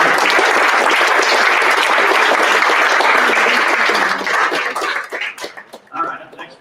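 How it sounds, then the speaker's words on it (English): A room full of people applauds for Tom, a dense burst of clapping that holds steady for several seconds before thinning into scattered claps, with voices beginning to talk as it fades. "let's give Tom a big round of applause"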